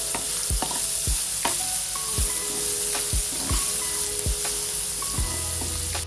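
Crushed onion sizzles in hot oil already seasoned with cumin and asafoetida for Kathiyawadi dum aloo, under a steady fry hiss broken by repeated scraping stirs of a spoon against the pan.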